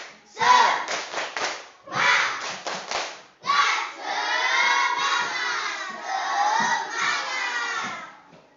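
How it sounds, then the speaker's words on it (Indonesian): Children in a classroom chant in unison and clap together in a rhythmic spirit clap, loud bursts of group voices and claps in short patterned phrases, close by. "Lagi, tepuk semangat."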